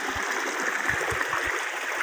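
A river flowing along the edge of a plot of rural land, a steady, broad rushing of water heard close and continuous, with a few low thumps beneath it.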